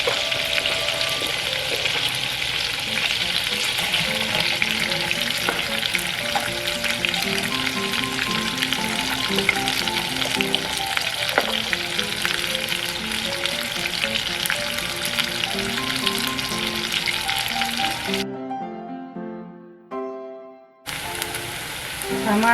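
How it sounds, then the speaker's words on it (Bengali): Onions frying in hot oil left over from cooking shrimp, a steady close sizzle with crackling and occasional stirring, a musical backing bed underneath, and a brief drop-out near the end before the sizzle returns. "আমি পেঁয়াজ দিয়ে দেবো।"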